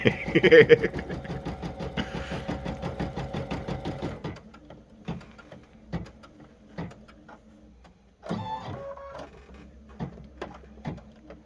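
A sewing machine stitches close by in a fast rapid-fire rattle for a few seconds, then stops, followed by scattered clicks and another short burst of stitching.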